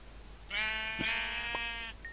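A Minecraft sheep gives one clear, loud bleat lasting over a second, close by and alone over faint background hiss.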